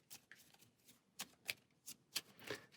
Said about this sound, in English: take all our basic 1 cards, give them a good shuffle